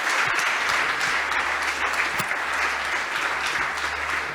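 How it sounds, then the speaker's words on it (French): An audience at a retail customer-satisfaction awards ceremony claps for the winners called to the stage, a loud, sustained, even wash of many hands over several seconds. "Bravo, on les applaudit, ils nous rejoignent sur scène."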